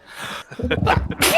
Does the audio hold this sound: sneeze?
yes